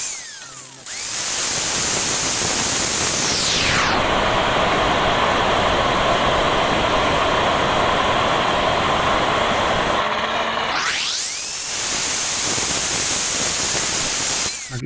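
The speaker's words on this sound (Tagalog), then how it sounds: "Ingat pa tayo sa paggamit ng cutter natin dahil delikado po ito." Abrasive metal cutter slicing through steel tubing for grills and gates, a loud sustained high whine that rises as the blade spins up, grinds steadily through the cut, then winds down before spinning up again near the end, with no talking.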